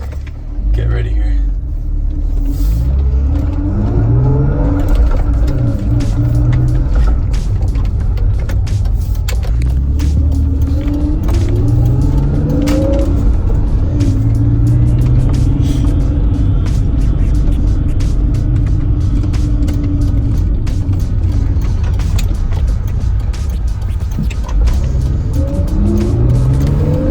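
BMW E46 with a short shifter accelerating through the gears, engine note rising and dropping with each shift, a steady loud rumble heard from inside the cabin with voices over it.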